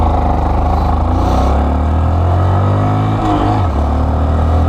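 A 2019 Honda Monkey small motorcycle engine drones steadily while riding, with a clunky transmission; the close, buzzing mid-pitched hum rises and falls slightly as it shifts, with wind noise throughout.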